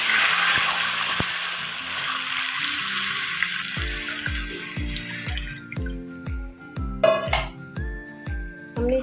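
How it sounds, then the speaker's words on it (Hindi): Water is poured into hot oil with browned garam masala in a pot for chicken biryani, a loud sizzling rush that fades into bubbling, with metallic clinks of a utensil against the pan. "पानी ऐड कर देना है।"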